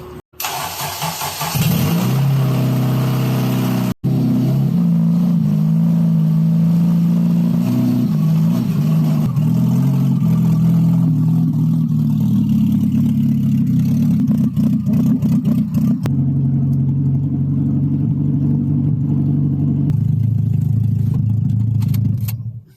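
A 2011 Honda CR-Z with a swapped K20Z3 engine starts, then idles loud and rough with an uneven, lumpy hum that holds steady close by for about twenty seconds, with no talking.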